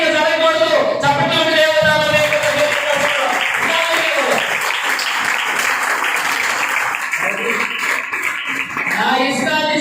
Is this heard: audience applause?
yes